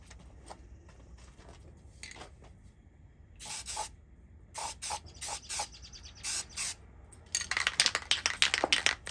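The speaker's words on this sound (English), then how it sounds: "you'll get what I just got, that sticky spray coming out of there" Gray spray paint hisses from an aerosol can in a series of short bursts, several separate sprays with pauses between them, then a quicker run of sputtering spurts near the end, close and fairly loud against a quiet room.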